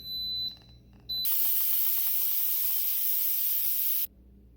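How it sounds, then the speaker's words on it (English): Hot items lifted from a boiled stock pot of water give off a loud, steady steam hiss lasting about three seconds, preceded by a brief high electronic beep, then cutting off abruptly. "You want to be very careful as you're working with hot water and a lot of steam here."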